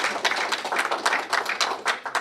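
An audience at a gliding talk on reading the sky claps for the speaker, a short burst of brisk, close, dense applause that stays lively throughout.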